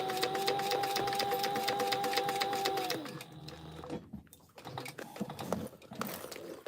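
A sewing machine stitching the box corners of a backpack, a rapid, close mechanical chatter of stitching with a steady hum that stops partway through, followed by quieter handling and shuffling noises.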